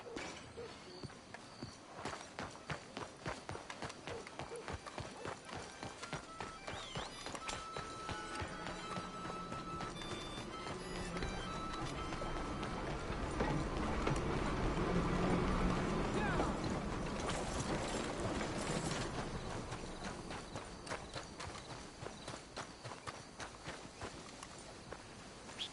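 Steady, rapid hoof clatter of a galloping horse in Red Dead Redemption 2 runs throughout, swelling louder midway with game-like mechanical and wind noise layered underneath.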